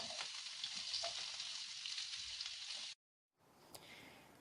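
Chopped onions sizzle in hot coconut oil with a dense, steady hiss that cuts out abruptly, then resumes more faintly after a short silence, with no voices.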